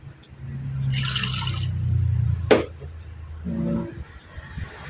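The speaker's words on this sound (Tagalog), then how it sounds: "Lagyan ko ng tubig, 2 cups of water." Two cups of water go into a cooking pot holding chicken, garlic and onion, a brief watery pour and splash close by, followed by a sharp clink and some low kitchen handling noise.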